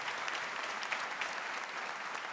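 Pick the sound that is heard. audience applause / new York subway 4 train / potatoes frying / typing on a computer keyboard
audience applause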